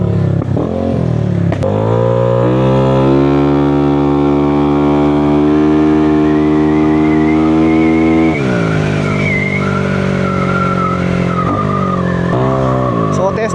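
Up close, a loud tuned car engine drones at high revs, falls away, then revs again with rising pitch, while a sharp exhaust backfire pop set off on closed throttle cracks early and another at the end.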